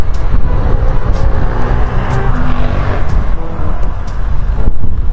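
Road noise fills a traffic jam: a loud, steady rumble of car engines and tyres, close and unbroken, with a few faint knocks on top and no talk.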